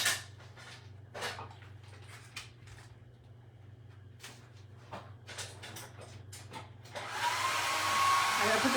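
A dryer switches on near the end and blows a steady, loud whoosh to dry glitter on a handmade vintage-style craft snowman, after a few soft taps and clicks from crafting.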